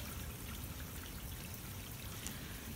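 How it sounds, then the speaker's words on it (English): Faint, steady trickle of water running down stone stairs in woods, a soft continuous wash with no voices and no change in level. "there's a bit of water running down the stairs"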